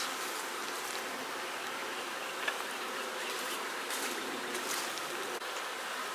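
Honey bees buzz steadily in an opened hive, a dense, continuous hum that holds close and even throughout, with no voices.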